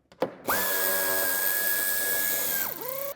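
A power tool whirs steadily for about two seconds and then winds down, loosening two 8 mm head screws in the wheel arch of a BMW X3 G01, close and alone.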